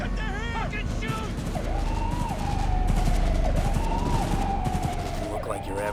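Gunfire in the Cyberpunk 2077 game sounds over a siren-like wail, with bursts of shots and engine noise packed into a loud, continuous action mix.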